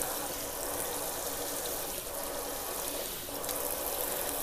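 Water pours steadily onto dry seed-sowing media in containers for Cephalotus seeds, a continuous soft rushing splash that holds at an even level for several seconds, with slight dips partway through.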